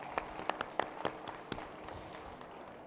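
Audience applause for a presenting company during a pitch at an agricultural innovation challenge stage. Scattered, moderately faint claps come in an uneven rhythm and thin out toward the end.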